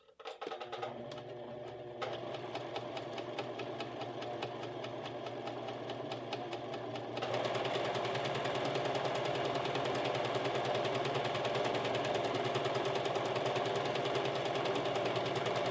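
A sewing machine stitches a blouse collar with a rapid, steady mechanical clatter that runs continuously, shifting to a busier, louder rhythm partway through, close by with no talk.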